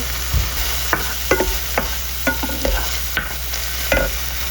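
Minced garlic and basil stir-fried in a pan, with a steady sizzle and about ten sharp spatula scrapes and clacks at an uneven rhythm, close and clear with no talking.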